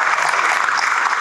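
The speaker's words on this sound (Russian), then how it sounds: "Аплодисменты." Applause after a talk, a short dense burst of many hands clapping together, steady and fairly loud, with no voices over it.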